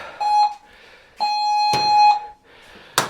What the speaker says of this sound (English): you're going to get a loud beep. It's our rest timer.